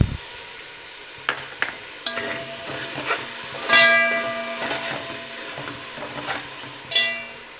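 Ginger and garlic fry in a pan for a fish biryani, making a steady close sizzle broken by the clinks and scrapes of stirring, with no talking.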